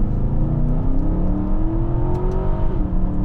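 A 2021 Aston Martin DBX accelerating hard off the line, its engine heard from the cabin as a loud, steady rising drone that climbs in pitch for about three seconds before a brief dip at a gear change.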